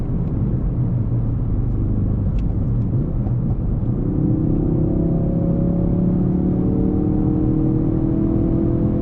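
Ford Focus RS all-wheel-drive hot hatchback accelerating hard, its engine a loud, steady rumbling drone that climbs in pitch through the gears, heard close with no talking.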